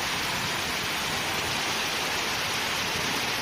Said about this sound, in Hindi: ये देख सकते हैं आप बारिश कितनी तेज़ हो रही है।